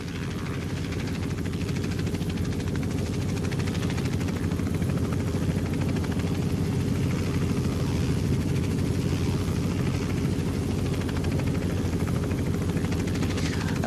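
A helicopter hovering in a flight simulator game: its rotor and engine drone steadily and loudly, an even, continuous thrum with no voices.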